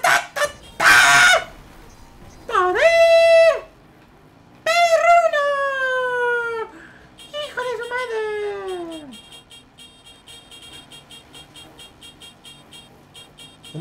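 Dog-like howling effects from a power used in the Halo 5 video game: several rising, wavering howls and honks, loud and close, with short gaps between them and a steady electronic tone behind.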